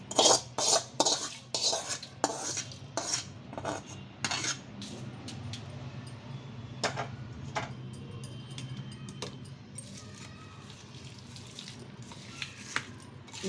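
A spoon clinks and scrapes against a steel bowl as tempering is stirred into bitter gourd pickle, sharp metallic taps in quick bursts at first, then sparser clicks over a low hum, no talking.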